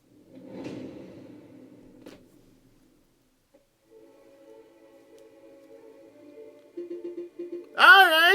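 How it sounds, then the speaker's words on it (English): A door opens in the courtroom of the video game Aviary Attorney, heard as a few soft wooden knocks and creaks at moderate distance, followed by a low murmuring hum and a rising, warbling musical flourish at the end. "The door's opening."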